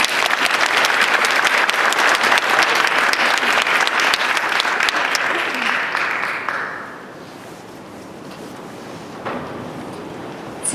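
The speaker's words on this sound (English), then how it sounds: "Let's give the students a round of applause." Dense, loud audience applause for students at a high school poetry recitation semifinal, sustained for several seconds before fading to a quieter room murmur with a few scattered claps.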